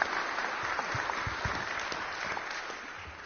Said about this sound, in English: let's give her a round of applause as she comes forward.